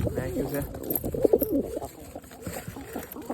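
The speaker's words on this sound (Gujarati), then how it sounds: "હા કબૂતર છે ને ઉડી ગયા" Soft pigeon cooing mixed with someone talking nearby, with some rustling in the background.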